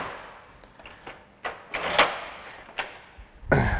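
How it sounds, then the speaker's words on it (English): A front door is opened and closed repeatedly while its handle and latch are adjusted, giving several sharp knocks and clicks spread across a few seconds, close by and with no talking. "just check the door."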